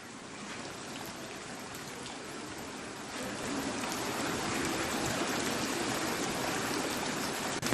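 Floodwater from an overflowing river rushing through a flooded residential street in Kemang, Jakarta, a steady broadband roar that swells slightly louder midway, with no voices.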